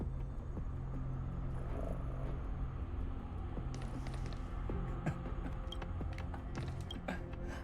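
A person imitates a cat's purr with a soft, low, continuous rumbling throat sound, faint and close, with no talking over it.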